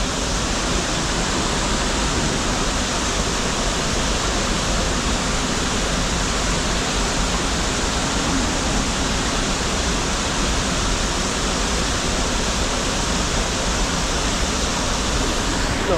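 Kenmere Falls in Tasmania, upper tier, roaring with a heavy volume of water in cold mountain air; a dense, steady broadband rush fills the whole stretch without pause, close and loud, with no voices.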